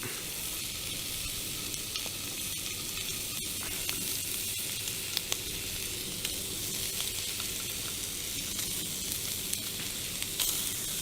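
Sausage sizzles and spits in a pan over a small Vargo stainless steel hexagon wood stove outdoors in winter woods, a steady close hiss with scattered pops and crackles throughout.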